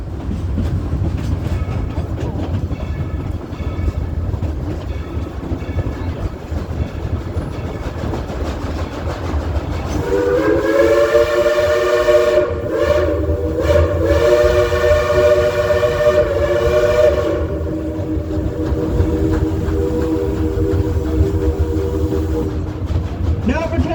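Dollywood Express steam locomotive number 70, the former United States Army engine called Cinderella, rumbles along at first, then sounds a long, loud multi-tone whistle that holds for several seconds, breaks briefly and resumes before fading.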